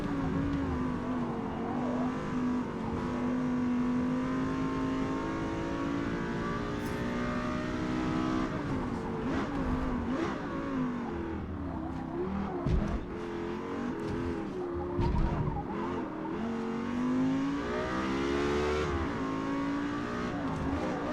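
A race car in the Forza Motorsport video game revs hard through rising and falling gear changes, with tire squeal and skidding as it lapping a track, loud and continuous without talk.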